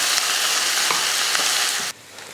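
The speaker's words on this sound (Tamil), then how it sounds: "இந்த மாதிரி பொறுமையாக வதக்கி எடுக்கணும்" Steady, dense sizzling of food sautéing in a pan, continuous for about two seconds before dropping abruptly to a faint hiss.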